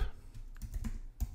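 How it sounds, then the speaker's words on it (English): Typing on a computer keyboard, a quick run of close, clattery key taps in an uneven rhythm with a heavier stroke near the end. "I'm just going to type something out."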